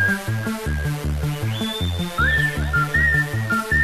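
At a DJ set at Sanctuary at the Cricketers, a high, sustained whistle cuts through for under a second over a loud, pounding dance beat and bassline that keeps going throughout.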